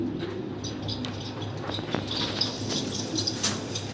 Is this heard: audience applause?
no